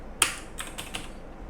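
Several computer keyboard keys are pressed while entering an Excel paste-special command: one sharp, loud click followed by three lighter taps in quick, uneven succession over a quiet room.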